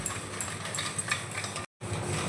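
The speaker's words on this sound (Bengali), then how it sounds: "চিনিটা দিয়ে আমি ভালো করে গুলে নিয়েছি।" Sugar stirred into watermelon juice in a bowl, a continuous close scraping and swishing with light clinks, cut by a brief gap of silence near the end.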